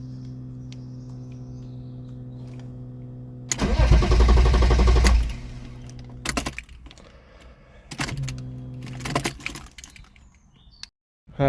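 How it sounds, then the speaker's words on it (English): A BMW E36 with a swapped M57 diesel engine cranks over without starting, a single loud whirring churn of the starter lasting about two seconds over a steady background hum, followed by clicks and shorter mechanical bursts close by. "try to start it and probably just crank over"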